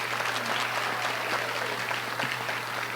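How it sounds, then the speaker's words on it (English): Sustained applause from an audience at a community town hall, a dense, even wash of many hands clapping together at close range for the full stretch, with a faint steady hum beneath and no speech. "Can we please give a rousing round of applause for Lelia, and Luis this afternoon?"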